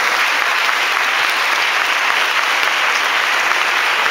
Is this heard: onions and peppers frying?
no